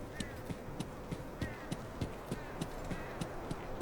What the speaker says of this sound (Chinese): 未调节 EQ， 敌人的脚步声。